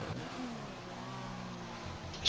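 Formula 1 racing video game engines, a McLaren and a Williams running close together, giving a high droning whine with rising and falling pitch as they accelerate, moderately loud and continuous.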